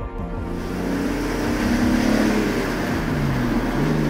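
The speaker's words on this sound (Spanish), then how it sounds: "empiezas a escuchar el gorgoteo al ralentí" An Alfa Romeo 147 GTA's V6 engine runs close by with a steady, deep idle burble that holds evenly throughout.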